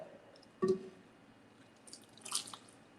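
Cooked linguine lifted with tongs into a pan of tomato-based shrimp sauce, a short wet squish and slap followed by a softer splattering squelch, close and quiet, no talking.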